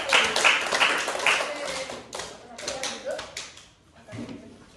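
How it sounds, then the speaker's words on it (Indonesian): Students in a classroom clap for a presenting group, a short burst of scattered hand claps up front that thins out into sparse taps and faint voices. "beri tepuk tangan untuk kelompok 1"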